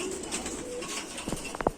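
Pigeons coo in low, throaty bursts close by, with a few louder coos near the end and a brief flutter of movement.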